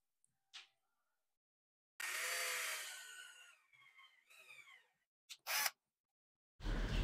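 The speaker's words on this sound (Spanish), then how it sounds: "Vamos a hacerle unas perforaciones guías para atornillar los rieles." A power drill bores pilot holes for screwing the rails of a Ducasse D52 sliding closet door system, its motor whining up in pitch in a couple of bursts, with short clicks and bumps between them.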